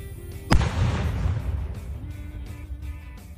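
A binary explosive mixture detonates on a firing range with one sudden heavy boom, then a long rumbling decay and a faint echo rolling away.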